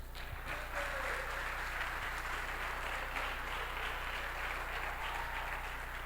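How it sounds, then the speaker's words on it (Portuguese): A Pentecostal church congregation applauds during a worship service, a steady dense wash of clapping sustained throughout over a low continuous hum, with no talk. "Vamos receber o servo do Senhor com as palmas nessa noite?"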